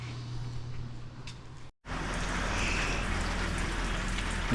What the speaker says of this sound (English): as soon as it stops raining here in just a second